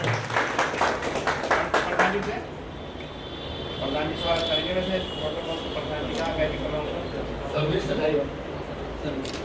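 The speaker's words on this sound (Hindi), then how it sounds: "तालियों से जोर से करना है।" An audience at an RWA federation felicitation gives a short burst of clapping to welcome a colony vice president, then it settles into room murmur and talk.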